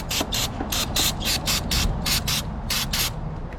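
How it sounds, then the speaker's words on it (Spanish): Repeated short bursts of aerosol cleaner sprayed onto the throttle body of a Toyota Yaris iA, about a dozen quick hissing puffs in an irregular rhythm, close and fairly loud over a steady low background rumble. "yo aquí con mi spray le voy a dar un poco"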